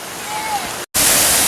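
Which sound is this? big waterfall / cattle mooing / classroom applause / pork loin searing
big waterfall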